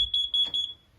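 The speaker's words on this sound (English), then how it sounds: "Carbon monoxide alarm up on the wall here. That's gonna go another couple of times." A carbon monoxide alarm mounted on the wall inside a 2008 Keystone Cougar 27RL camper, giving a rapid series of shrill, close, loud electronic beeps in quick succession.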